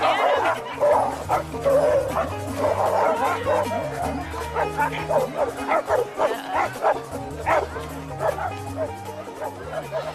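Dogs bark, yip and whimper repeatedly amid a chaotic crowd scene, loud and close, with agitated people shouting over them throughout.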